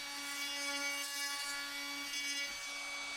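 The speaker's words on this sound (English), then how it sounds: "So I'm just putting a little chamfer on it." Japanese rasp file chamfering the edge of a wooden piece, a continuous close scraping rasp with a steady buzzing tone that breaks briefly between strokes.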